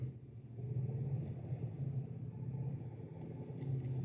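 A scout vehicle crawls along in SnowRunner with a steady low engine rumble and drone, moderately loud and continuous, with no talking over it.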